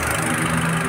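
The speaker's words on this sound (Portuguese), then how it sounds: "O motor voltou a ficar filezinho, ó, reloginho" A repaired Chevrolet Agile car engine idles smoothly and evenly nearby, a steady low hum with a faint vibration and no voices over it.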